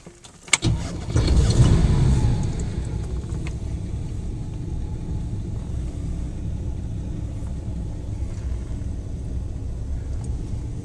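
A 1956 Cadillac Fleetwood Sixty Special's door thunks, then its engine rumbles steadily as the car drives along, a low continuous hum with no talking.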